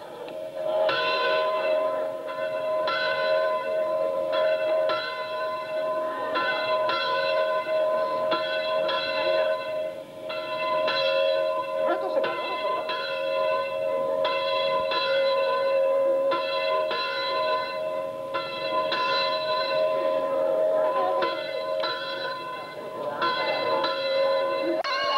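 Church bells ring out for a religious celebration, a long series of loud, resonant clangs in a repeating pattern, each one overlapping the hum that lingers from the strikes before it.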